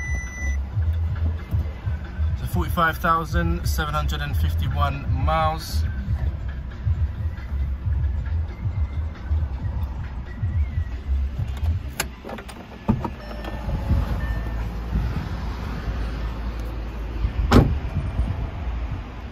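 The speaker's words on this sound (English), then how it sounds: "let's just turn the car on" A Volkswagen Up 1.0 Move Up BlueMotion Technology with 45,751 miles is switched on from inside the cabin. Early electronic chimes and clicks give way to a steady low engine rumble, with a few sharp knocks and a brief spoken word.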